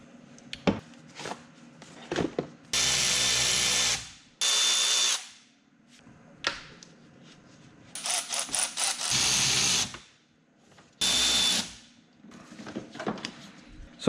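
Power tool whirs in several loud bursts among clanks and rattles of wrenches and tools while radiator hoses are removed from a Volvo 740, with quiet gaps and metallic handling between runs.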